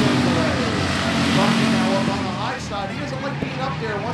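Dirt track race cars roar down the back straightaway at a race, loud engines rising and shifting in pitch as they pass, with an announcer talking over the noise.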